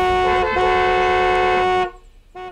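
A car horn blares in one long, steady, loud honk lasting nearly two seconds, followed by a brief shorter toot after a pause. The driver is honking at another car that must back out.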